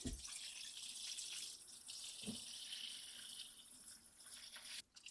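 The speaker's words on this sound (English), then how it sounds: "I am going to add water to the tray." Water pours steadily into a plant tray holding butterfly bush cuttings rooting indoors, a close, continuous splashing stream that stops abruptly near the end, with no talk.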